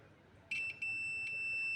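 Multimeter continuity tester probing a Polytron Cinemax PLD 32T711 TV board that is completely dead, giving a sharp, steady high-pitched beep that starts abruptly, dips briefly, then holds, close and clear over faint background hiss.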